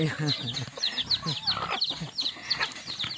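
Backyard pet hens with small chicks cluck and peep in a steady stream of short, chirpy calls, close and moderately loud, with rustling around them.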